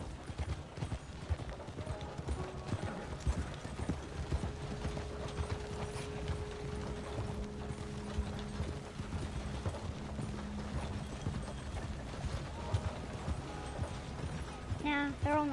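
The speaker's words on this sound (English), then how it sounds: "the horses are running as fast as they can" Horses galloping in Red Dead Redemption, their hooves clip-clopping in a steady rhythm alongside mechanical rattles and game music, with voices talking over them.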